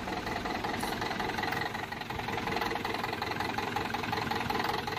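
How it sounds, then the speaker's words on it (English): An old tractor engine in Farming Simulator 17 idles continuously with a smooth, even rumble and a steady ticking texture, moderately quiet and unbroken throughout. "Yeah, proper old school engine. That engine tick over is just so smooth, though."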